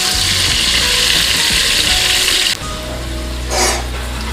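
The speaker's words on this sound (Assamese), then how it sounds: "আলুখিনি মই 3-4 মিনিট মই ফ্ৰাই কৰি লম" Potatoes frying in hot oil for a home-style egg biryani give a loud, close, steady sizzle that drops suddenly in intensity partway, then flares briefly again.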